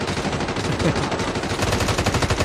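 Rapid automatic gunfire from Call of Duty Mobile zombies mode rattles loudly in dense, continuous bursts, close and relentless across the whole moment.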